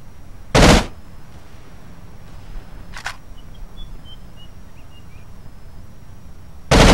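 Short bursts from an M249 machine gun in the game America's Army: one loud burst, a fainter brief burst a couple of seconds later, then quiet hiss before another loud burst at the very end.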